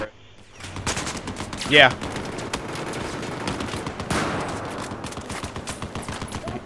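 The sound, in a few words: machine gun fire in video game Battlefield 4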